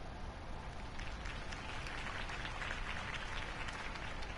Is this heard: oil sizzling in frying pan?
no